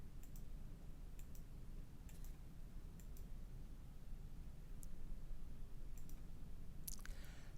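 Computer mouse clicks while using a trademark class search tool, a handful of sharp, light clicks spaced a second or so apart over a steady hiss, with no talking.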